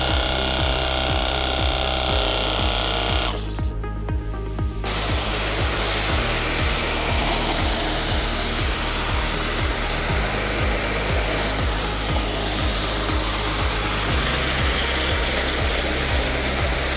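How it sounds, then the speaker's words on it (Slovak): A vacuum cleaner sucks water from the bottom of an emptied hot tub, its steady loud motor drone running throughout with a brief hissing surge of suction noise near the start. "stiahnem s vysávačom."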